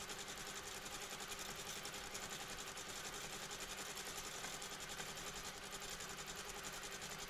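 A quilting sewing machine stitches through layered fabric, a steady rapid mechanical hum with a fine regular needle rhythm running evenly the whole time, quiet and unbroken.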